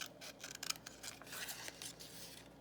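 Scissors cutting out a paper journal card, a quiet close series of short crisp snips and slides in an uneven rhythm, with no talking.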